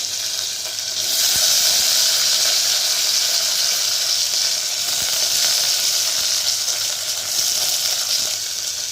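Sliced onions and curry leaves hit hot oil for sambar, setting off a loud, steady hissing sizzle that swells after the first second and stays strong, with occasional small pops and no talk.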